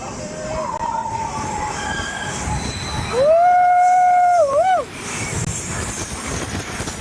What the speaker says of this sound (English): we're going at the same time as another train